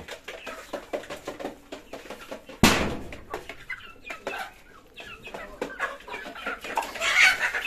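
Quails chirp and cluck repeatedly from close by on a farm, a busy scattered chatter with one sharp thud partway through.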